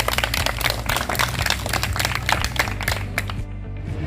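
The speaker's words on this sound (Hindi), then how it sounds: "तालियां" Children in a classroom clap together in a quick, dense burst of applause that lasts a few seconds before stopping abruptly.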